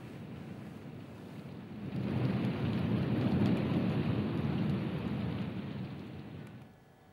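Thunderstorm with heavy rain, a steady dense roar of rainfall that swells with deep rumbling thunder through the middle, then eases off, with no voices.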